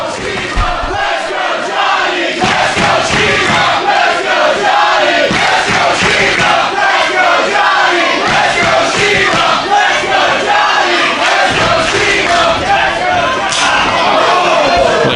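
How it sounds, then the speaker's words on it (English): A dense, roaring wrestling arena crowd cheering throughout a hard-fought professional wrestling match, steady and loud with surging yells and scattered sharp slaps from the ring. "Listen to this crowd."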